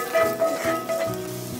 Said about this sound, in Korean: 마늘을 먼저 볶아 주세요.